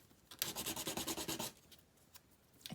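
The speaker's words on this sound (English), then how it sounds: "It's easier to set your sandpaper down and do it than it is to try to hold your item and sand it like this" Sandpaper rubbing steadily against a small charm cut from a repurposed plastic loyalty card, a close run of quick rhythmic scrubbing strokes for about a second, then a pause and a few softer scrapes.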